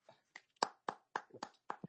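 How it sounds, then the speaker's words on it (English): One person claps their hands seven or eight times in a loose, slightly uneven rhythm, the claps close to the microphone but quiet, with brief silence between them. "That's me clapping."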